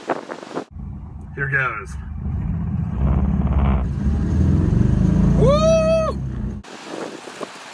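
A Subaru BRAT pulls hard at full throttle, its engine droning and rising steadily for several seconds beneath wind buffeting, while an occupant talks and lets out a high excited whoop before the roar cuts off abruptly.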